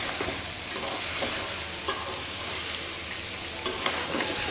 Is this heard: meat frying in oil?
yes